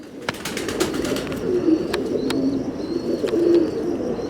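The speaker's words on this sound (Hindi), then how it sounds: "ये जेट कबूतर है थोड़ा।" Soft pigeon coos repeat at a steady pace over a low background hum on a rooftop, with a few faint chirps and wing sounds nearby.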